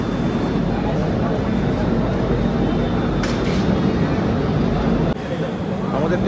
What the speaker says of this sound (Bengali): ট্রেন এসে পৌঁছালো এই ভদ্রক